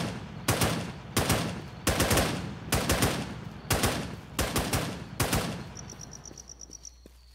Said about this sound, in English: Somebody's shooting me.